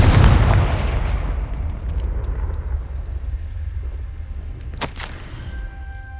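A Confringo fire spell detonates in Hogwarts Legacy with a loud, heavy blast that rolls into a long, rumbling decay, then a sharp crackling burst near the end.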